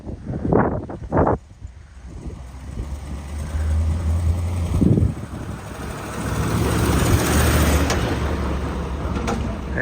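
A car engine revs and rumbles through burnouts outdoors, with rising and falling roars and a sustained surge toward the end, heard fairly close under wind noise, with a few brief voices early on.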